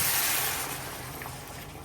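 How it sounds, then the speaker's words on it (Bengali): Hot water poured into a curry that has been fried down in a pan, a loud close hiss and spray that starts strong and settles into a steadier, softer rush. "এখন এই যে দিয়ে দিলাম গরম জল"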